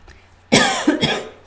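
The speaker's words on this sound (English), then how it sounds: "I'm gonna pause because I feel I'm gonna cough a lot." A single person coughs several times in quick succession, close and loud, in a burst of harsh rasping coughs with a touch of throat clearing, after a short quiet moment.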